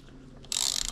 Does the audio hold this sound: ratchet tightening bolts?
yes